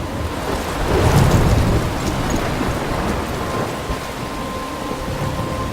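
A thunderstorm in Life is Strange: heavy rain pours continuously while a deep thunder roll swells early and fades, loud and close, with no voices.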